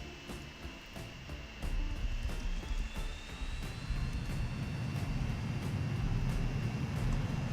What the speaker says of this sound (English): Okay, our Comet is taking off.